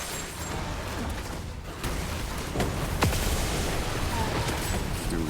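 A siege weapon fires during battle in the video game Diablo Immortal, with booming impacts and crackling blasts over a dense, continuous layer of game noise and music.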